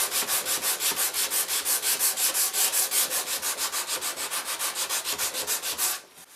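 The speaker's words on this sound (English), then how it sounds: "So I'll just continue to sand this" Steady back-and-forth sanding strokes on a carved wooden guitar neck, rhythmic and close, about two strokes per second, continuing evenly before stopping abruptly near the end.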